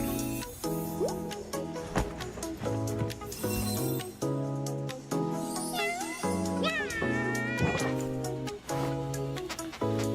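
A cat in the Resident Evil 9 game trailer gives a few rising, drawn-out meows that sit among trailer music, with light clinks and a moody swelling score around them.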